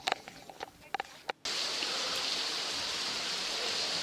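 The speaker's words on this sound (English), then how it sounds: "Tuesday morning, and it is raining." After a few scattered clicks, a steady hiss of falling rain begins abruptly and continues evenly, soft and unbroken.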